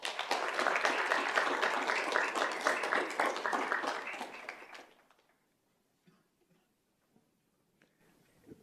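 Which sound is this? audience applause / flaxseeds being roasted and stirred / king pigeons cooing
audience applause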